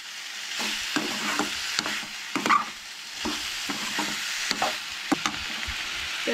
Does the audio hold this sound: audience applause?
no